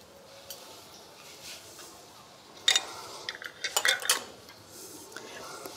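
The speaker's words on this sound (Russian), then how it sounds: "Закрываем крышкой." Glass and metal clinks and a few sharp clatters as a lid is fitted onto a glass jar of hot vegetable spread, close by in a quiet room.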